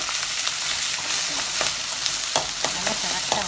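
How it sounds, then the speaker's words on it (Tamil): Chopped onions and curry leaves frying in hot oil for a Coimbatore-style puli kuzhambu, a steady close sizzle with occasional stirring clicks and crackles throughout. "வெட்டி வச்ச வெங்காயமும் கருவேப்பிலை தழையும் போட்டு நல்லா செவக்க"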